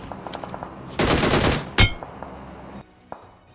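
A DP light machine gun firing a short burst in the battle-royale game BGMI, with a dense sustained volley of loud shots followed by a single sharp crack and quieter scattered pops.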